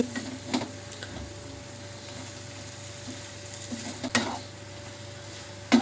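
Beaten egg fries in a pan with potato, chilli and onion for a spring onion egg dish, a faint steady sizzle with a few sharp scrapes and clinks of a spatula.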